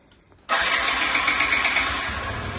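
A Yamaha Jog SA36 scooter fitted with a gas conversion fires up after a faint click, then settles into a steady, close buzzing idle.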